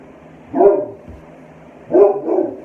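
A service dog barks indoors, two separate loud, close woofs about a second and a half apart, the second followed by a quick extra yap.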